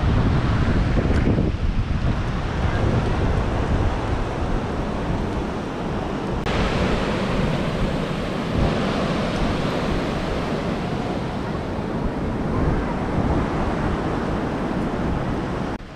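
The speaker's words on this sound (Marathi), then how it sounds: "भारी लाटा येत आहे" Waves surging onto the beach at Kunkeshwar on the Devgad coast, a continuous loud roar of surf mixed with gusty wind buffeting the microphone, with no voices.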